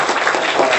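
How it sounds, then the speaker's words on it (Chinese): Audience applause welcoming a lecturer at a cultural talk, a brief dense burst of clapping from a crowd. "请大家掌声欢迎"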